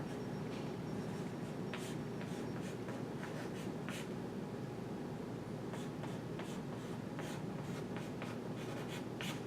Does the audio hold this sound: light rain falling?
no